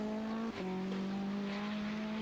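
A Caterham Supersport race car at Oulton Park, heard as a steady, moderately distant engine drone with a sharp gear change about halfway through, holding a constant tone afterward.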